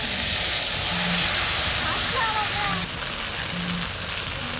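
Water hits ginger-garlic paste frying with cumin, coriander and dried chilli paste for an echor chingri curry, giving a loud, steady, close sizzle that eases slightly toward the end.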